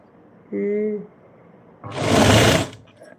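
Sewing machine stitching in a home, one short burst of rapid mechanical whirring close by, preceded by a brief voice.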